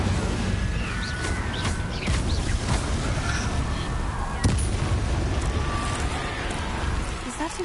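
Incendio fire spells are cast in the video game Hogwarts Legacy, with sharp fiery bursts rising out of a loud, dense wash of combat effects.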